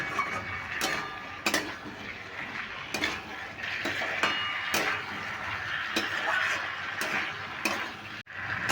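Jackfruit and potato pieces stir-fried with a little sugar in a pan: a spatula scrapes and clinks against the metal in a steady rhythm of roughly one stroke per second over a soft, continuous sizzle, close and moderately loud, with no talking.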